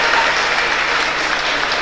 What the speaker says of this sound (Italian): applausi per loro